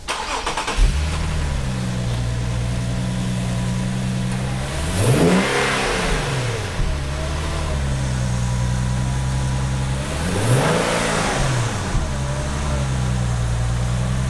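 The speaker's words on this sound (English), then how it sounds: "This car does have a Stillen axle back, so you'll hear some of that, but we're looking for induction sounds." A 2015 Infiniti Q50 fitted with a Stillen dual cold air intake and Stillen axle-back exhaust idles steadily, then revs up sharply twice, each rise climbing and falling back to a smooth, loud idle with strong induction and exhaust tone.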